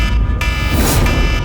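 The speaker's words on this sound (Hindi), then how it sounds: "सर, पैनिक अलार्म बज गया।" A bank panic alarm rings loud and continuous, a harsh steady electronic tone that fills the whole moment with no talk over it.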